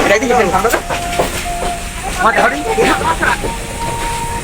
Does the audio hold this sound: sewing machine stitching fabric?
no